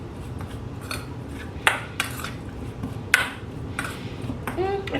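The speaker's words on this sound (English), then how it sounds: "Literally just dumping them all in the air fryer." Potatoes dumped into an air fryer basket in a home kitchen, a few sharp metallic clinks and knocks spaced over several seconds above a soft background rustle.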